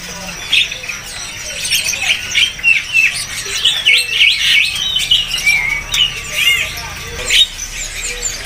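Pi jantung pisang birds at a bird market chirp and tweet in quick, bright, repeated bursts, loud and close, with short squeaky calls overlapping through the whole stretch.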